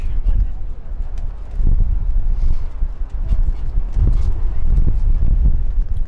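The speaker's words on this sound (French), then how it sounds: "Toujours autant de vent" Strong wind buffets the microphone at an outdoor quidditch match in heavy, uneven low rumbles and gusts, close and loud throughout.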